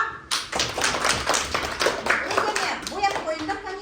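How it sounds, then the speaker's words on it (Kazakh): A class of third-grade schoolchildren clapping their hands together in a short burst of applause, close and lively, with uneven overlapping claps that fade toward the end. "Шапалақ."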